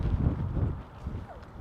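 Low, rumbling wind on an extremely windy day buffets the microphone in uneven gusts, loud and close, with faint background noise underneath.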